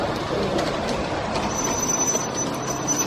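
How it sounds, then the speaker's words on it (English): A Thomas model train runs along a layout in an old hotel and train depot, giving a steady close rumble of small wheels on track with a thin metallic squeal running through it. "And there's some up-to-date kind of model trains here."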